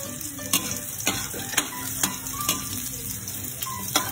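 Garlic sautés in a pan with a constant sizzle, while a utensil stirs and scrapes it in regular strokes, about two clicks per second. The sound is close and there is no talking.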